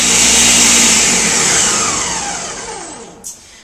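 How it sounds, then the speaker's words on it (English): A blender blending coconut for coconut milk whirs loudly and steadily, its motor pitch slowly dropping as the load thins, then cuts off with a brief clunk near the end. "And now what I'm going to do is I'm going to blend it."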